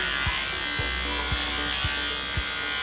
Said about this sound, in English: I cut against the hair growth direction, so it's pushing itself against the clipper